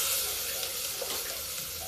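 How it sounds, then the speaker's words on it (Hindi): Onions and asafoetida frying in desi ghee in a pan, a steady, close, hissing sizzle that continues without a break. "ये देखिए अब इस प्याज को हम भून लेते हैं"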